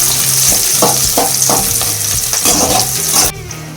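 Chopped shallots frying in hot oil with mustard seeds and curry leaves for a Tamil-style brinjal curry, a loud continuous sizzle with regular stirring scrapes against the pan before cutting off abruptly near the end.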